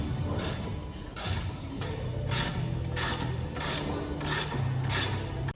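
Ratchet wrench loosening bolts on the rear suspension of an Audi A3 8V saloon, a rapid clicking pawl in repeated even bursts, close and fairly loud, with no talking.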